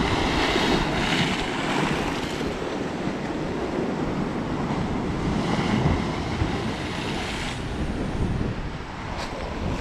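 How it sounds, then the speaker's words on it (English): Sea waves crashing against a sea wall and splashing at Palmanova–Son Caliu, a steady, loud roar of surf with wind noise and no voices. "watch the waves coming in, and they're just crashing against the sea wall here and splashing"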